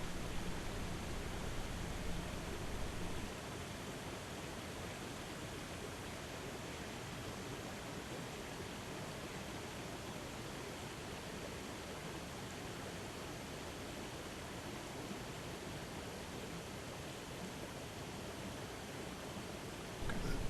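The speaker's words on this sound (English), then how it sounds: "this is the little brook at the very bottom that feeds the whole system" A small brook at the bottom of a hike near Conant Brook Reservoir flows with a faint, continuous hiss of running water, steady and unchanging throughout.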